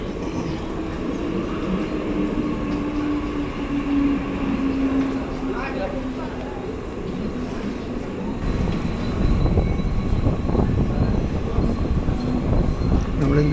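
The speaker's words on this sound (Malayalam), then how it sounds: "നമ്മളിതിൻ്റെ സീറ്റ് പിടിക്കുമ്പോഴേക്കും തന്നെ വണ്ടി വിട്ട് കഴിഞ്ഞു." A 12-car ICF-built slow local train on Mumbai's Western Railway line pulls away and picks up speed, its low rumble and rattle growing louder and rougher in the second half, with a faint tonal whine and voices under it.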